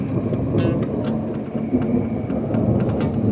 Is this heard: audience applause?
no